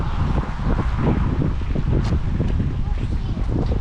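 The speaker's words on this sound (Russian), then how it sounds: "Ветер только сильный." Strong wind buffets the microphone with a constant low rumble and gusting roar, while people speak nearby.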